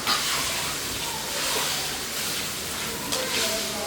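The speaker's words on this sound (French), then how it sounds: "Nous allons laisser ceci sauter jusqu'à ce que la viande devienne bien dorée." Meat sautéing in a pan with black pepper, bell pepper, parsley and basil, giving a constant close sizzle and hiss with faint stirring scrapes throughout.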